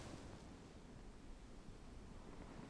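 Steady, soft rush of ocean waves washing onto a beach at night, a continuous low surf wash with wind-like noise and no distinct individual breakers, heard alone.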